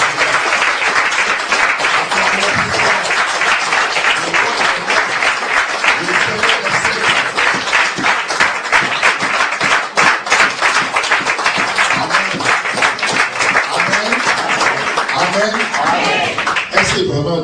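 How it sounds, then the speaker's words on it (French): A church congregation applauding rhythmically, a dense continuous wash of clapping with voices and singing mixed in throughout. "Acclamons pour toi."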